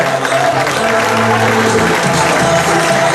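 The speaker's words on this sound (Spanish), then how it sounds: "se siente el aplauso" Crowd applause at a Zumba event, loud and close clapping blended with music and crowd noise, continuous through the short stretch.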